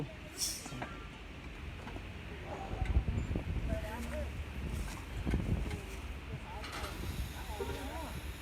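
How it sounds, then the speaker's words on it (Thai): Strong wind buffets a microphone outdoors at an open field beside a PTT petrol station in Nava Nakorn Industrial Estate, Pathum Thani, where equipment is being set up. A low, steady rumble fills the whole stretch, with voices faintly in the background. "ลมแรงใช้ได้เลยครับ"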